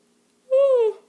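A person one week after sleeve gastric surgery gives a single close, voiced yawn, a drawn-out falling tone that fades after about half a second.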